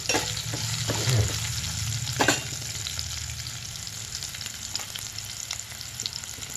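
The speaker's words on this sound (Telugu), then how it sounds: "పెద్దలపాయ ముక్కల్ని ఇదే విధంగా దోరగా ఎర్రగా వేయించుకోవాలి" Large onion pieces fry in a pan with a continuous soft sizzle, punctuated by a few louder scrapes and clatters as they are stirred, close and without any talk.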